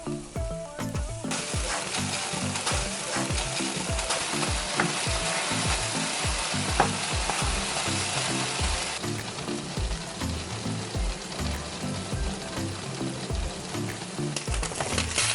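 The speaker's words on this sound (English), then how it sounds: "stir in your garlic. Add salt, pepper, oregano, cumin. Then add your ají panca and your ají amarillo and continue stirring." Garlic, salt, pepper, oregano, cumin, ají panca and ají amarillo sizzle loudly in a frying pan, with a utensil scraping and stirring in a steady repeating rhythm close up throughout.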